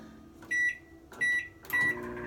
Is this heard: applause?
no